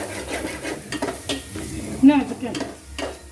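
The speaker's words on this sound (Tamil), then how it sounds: "இப்போ சிக்கன் எடுங்க நல்லா இதை வதங்கணும்" Chicken sautéed and stirred in a pan for a home-style chicken kuzhambu, with scraping and clinking of a spoon against the pan over a soft sizzle, close and fairly quiet.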